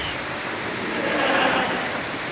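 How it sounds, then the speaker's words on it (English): Pouring rain with rolling thunder, a steady broadband downpour holding throughout, swelling slightly in the middle, with no voices over it. "Oh, do you hear that rolling thunder? Do you hear that pouring rain"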